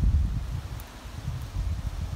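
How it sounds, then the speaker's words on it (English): Steady low wind buffets the microphone in rumbling gusts, with faint rustling underneath and no voices. "But it's pretty windy,"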